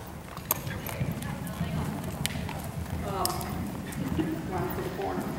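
Horse walking home on a long rein during a riding clinic lesson, hooves clip-clopping steadily at a moderate distance over a broad outdoor background hiss.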